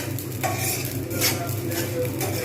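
Parboiled rice dry-roasts in a pan without oil while being stirred, giving soft scraping and rustling strokes in a loose rhythm over a low background hum.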